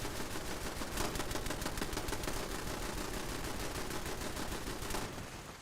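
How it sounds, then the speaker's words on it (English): Automated turrets in the Fallout 76 video game fire rapid, sustained bursts of gunfire, a dense continuous rattle at steady loudness that tapers off near the end, with no talking. "Oh, turrets are up again."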